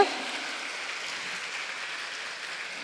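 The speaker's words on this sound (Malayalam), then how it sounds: "നല്ലൊരു കൈയടി ഞാൻ പ്രതീക്ഷിക്കുകയാണ്" A studio audience claps steadily through a Malayalam talent show's opening welcome, a dense even patter that starts sharply and holds at moderate level with no voices over it.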